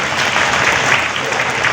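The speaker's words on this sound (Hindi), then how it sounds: "मैं उम्मीद करता हूं उपस्थित श्रोतागण से कि एक बार जोरदार तालियां मिलाएं अपने जयनगर स्टेशन के लिए।" A crowd at Jaynagar railway station in India gives loud, sustained applause at a redevelopment event, a thick, unbroken roar of many hands that stays strong and even throughout.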